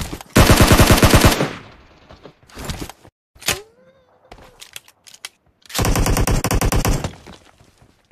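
Two long, loud, close bursts of rapid machine-gun spray fire in the battle royale game PUBG, with scattered single shots and small clatters in the gap between the bursts.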